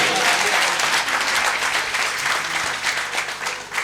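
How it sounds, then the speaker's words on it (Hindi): Loud, sustained applause from an audience at a Jain temple ceremony following a devotional hymn, dense and steady throughout with no speech over it. "एक बार और जोरदार तालियां।"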